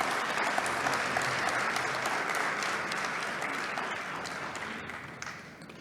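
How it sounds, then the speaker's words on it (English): A convention audience at a rose society session in Adelaide breaks into sustained applause, dense clapping at a steady level that tapers slightly toward the end, with no talk over it. "another round of applause"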